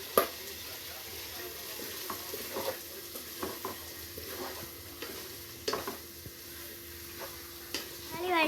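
Tomatoes sautéing in a pan for a prawn biryani, with a soft, steady sizzle under repeated scraping and clicking strokes of a stirring spoon, fairly close and moderately quiet.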